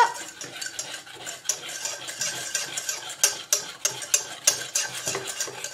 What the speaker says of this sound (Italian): adesso cucchiai vai mescola mescola